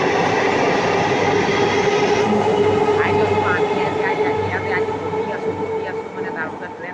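A train rolls past with a loud, continuous rumble of wheels on rails, punctuated by brief metallic squeals, while people talk nearby.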